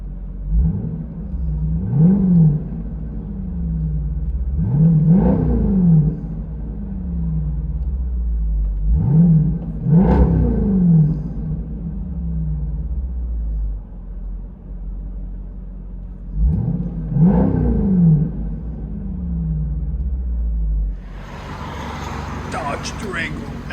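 From inside the cabin of a 2022 Dodge Durango SRT 392 with a 6.4L HEMI V8 and a Borla ATAK cat-back dual exhaust, about six loud, deep revs rise and fall at a steady pace over a rumbling idle.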